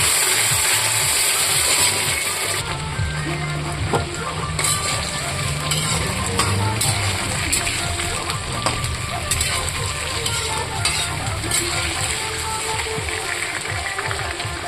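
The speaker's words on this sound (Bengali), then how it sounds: "আলুটা এখন লাল লাল করে ভাজবো।" Potatoes frying in a pan for a home curry, with a steady crackling sizzle of moderate loudness that runs continuously, broken by occasional sharper clicks and pops.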